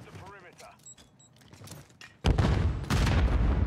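A grenade explodes in a first-person shooter: a voice speaks briefly over quiet game sounds, then a sudden loud, dense blast and roaring rumble fill the last second and a half.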